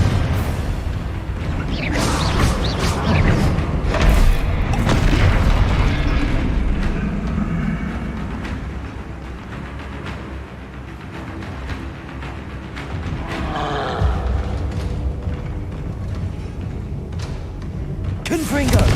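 Confringo spell blasts go off in the Hogwarts Legacy video game, with loud repeated booms and whooshes in dense, busy combat noise, along with shouted voices.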